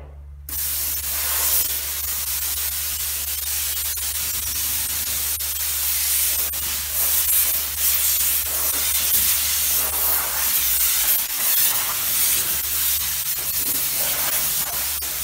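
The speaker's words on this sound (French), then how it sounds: "c'est uniquement la vapeur sèche sans savon" A dry steam cleaner blasts steam over a car without soap, a loud continuous hiss over a low steady machine hum that runs almost unbroken for fifteen seconds after starting abruptly.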